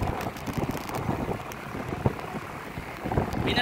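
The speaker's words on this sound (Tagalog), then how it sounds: "Taas ng hangin yun, oh." Gusty wind buffeting the microphone during a bicycle ride on the Goshen Bamban Tarlac loop, uneven low roaring puffs with a muffled rushing background, strong and close.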